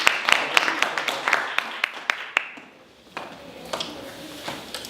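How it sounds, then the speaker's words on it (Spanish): Audience applause at a public lecture on climate change and public health: a run of sharp, rhythmic claps that thins out and stops, followed by a voice talking, with a few claps returning under it. "Les pido otro fuerte aplauso para el maestro Isaías"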